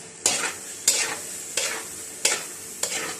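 Carrot halwa with ghee is roasted in a kadhai, with a spoon scraping and stirring it in five evenly spaced strokes over a low background sizzle, close and clear, with no talking.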